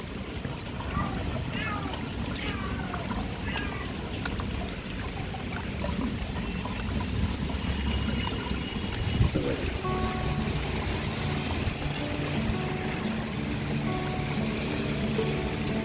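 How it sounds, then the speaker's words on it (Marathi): Rainwater pours and trickles off a rain-soaked terrace garden, a steady broadband rush of draining water with a few splashes, running continuously while people talk over it. "आता सगळं पाणी जाईल."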